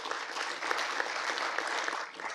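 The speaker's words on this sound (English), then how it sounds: "So let's hear a round of applause for ICANN," An audience applauds at a presentation on a prescription drug misuse and abuse initiative: dense, continuous clapping that fills the room.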